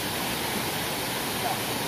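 A waterfall pours in a steady, dense wash of broadband rushing noise, loud and unbroken throughout the short stretch.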